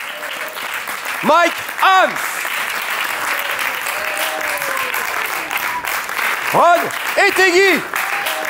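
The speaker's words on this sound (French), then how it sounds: "on va les applaudir très fort" A comedy show audience claps loudly and steadily for comedians as their names are called out over a microphone, with bursts of cheering and whooping mixed into the continuous applause.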